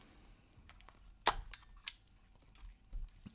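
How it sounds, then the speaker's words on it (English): The back of an old film camera is opened by hand, giving a sharp mechanical click followed by a few lighter snaps and clacks, close and quiet otherwise. "I open the back of the camera"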